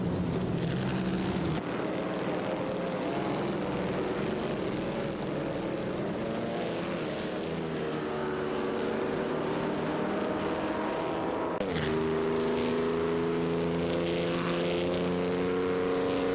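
Mercedes-Benz W125 and Auto Union Type D race cars in a racing video game, engines droning steadily with whining tones that rise and shift in pitch as the cars pass, loud and continuous without talk.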